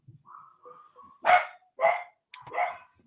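Several dogs barking indoors in short separate bursts, three strong barks after softer whines and yips, fairly close with no talk.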